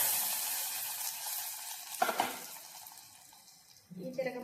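Hot tempering hits a pot of Nellore rasam with a steady hiss and sizzle. It stays loud and close, shifts briefly as the liquid is stirred, then eases into a quieter bubbling.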